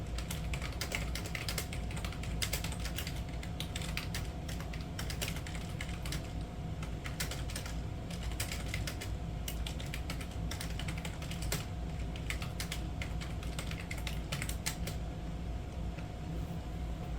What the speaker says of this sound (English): Just typed up a quick document on there.